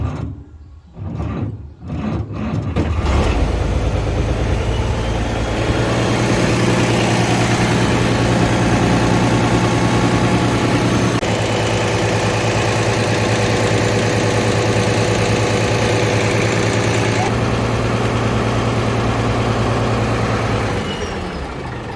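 An International 1086 tractor's engine turns over with a few short cranking bursts, then catches and settles into a loud, steady, rumbling diesel idle that runs on close by for many seconds.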